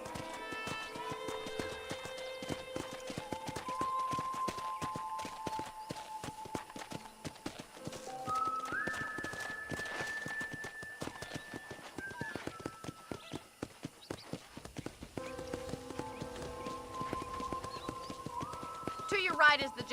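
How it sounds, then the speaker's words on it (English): Horse hooves clip-clopping in Red Dead Redemption as a ranch horse sets off, a steady rhythmic patter of hoofbeats running under sustained musical tones throughout. "I picked out a fine horse for you. Giddy up!"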